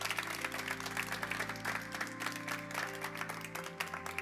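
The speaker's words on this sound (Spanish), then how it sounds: "Dale un aplauso a Jesús." Congregation applauding in a church service, a dense, steady wash of clapping that fills the whole stretch at moderate loudness, with held musical tones underneath.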